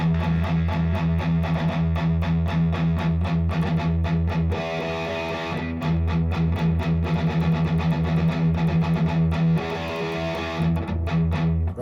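Heavy distorted electric guitar chugging on low palm-muted notes in a steady driving rhythm, loud and continuous throughout with no voices.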